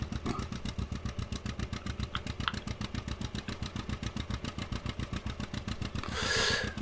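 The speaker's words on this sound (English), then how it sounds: "I could listen to this engine note all day, yes." Single-cylinder engine of an old vehicle labouring uphill, a steady rapid thumping beat with even exhaust pulses close by, continuous throughout with a brief rushing swell near the end.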